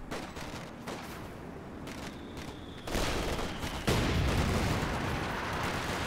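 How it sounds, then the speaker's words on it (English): Rifle grenades and gunfire in a Company of Heroes 2 battle: scattered rifle shots and distant rattling fire, then a louder burst and a heavy boom close by, followed by sustained loud battle noise. "rifle grenade thrown by the Grenadiers"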